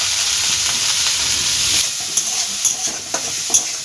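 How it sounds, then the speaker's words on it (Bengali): Moong dal frying in hot ghee over low heat, a steady close sizzle and hiss with a spoon stirring and scraping the pan in short strokes toward the end. "এবার আমি ডালটা ভেজে নেব, মুগের ডালটা।"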